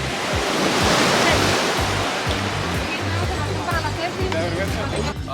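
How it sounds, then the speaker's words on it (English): Ocean waves wash steadily onto the beach at Puerto Vallarta, a continuous loud roar of surf with some wind across the microphone. "Check out the beach, guys. Here we are, Puerto Vallarta."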